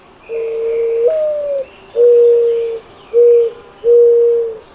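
A mourning dove coos nearby in four soft, hollow, drawn-out notes, the first longest, with a faint high insect or bird trill behind.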